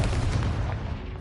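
A Confringo fire spell in Hogwarts Legacy goes off as a loud, booming blast that holds steady and rumbles for about a second, with no talk over it.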